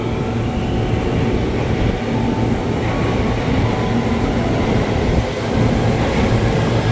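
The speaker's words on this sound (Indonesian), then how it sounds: "rangkaian persiapan masuk stasiun Depok Baru," Steady low rumble of an eight-car commuter train rolling into Depok Baru station, Indonesia, continuous and fairly loud, with faint rail clatter and no voices.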